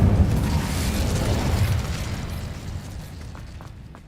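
The Incendio fire spell cast in the video game Hogwarts Legacy, a loud fiery whoosh with rumbling burst and crackle that slowly trails off.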